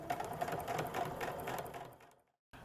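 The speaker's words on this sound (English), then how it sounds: "now we're going to top stitch down both sides to create that same top stitching look that we used on our straps" A sewing machine top stitches down both sides of a fabric backpack strap, running in a steady close mechanical whir with a fine stitching rhythm, then slowing and stopping briefly before starting up again.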